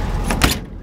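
A single solid thud of a 1959 Volkswagen panel van door with new door rubber slamming shut, close by, with a brief rattle before it and quiet afterward.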